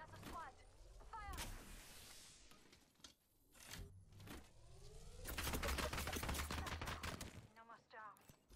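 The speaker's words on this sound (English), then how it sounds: "Those shots are from another squad." Gunshots from another squad in Apex Legends come in faint, scattered bursts, some distant and some sharper. Game voices are heard between them, and the clip ends with a denser, longer volley of fire.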